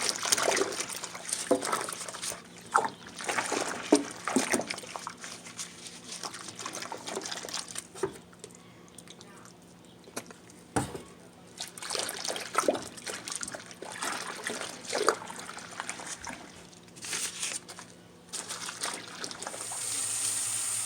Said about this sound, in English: On to step 2, you just got to get rid of all the soap, rinse it.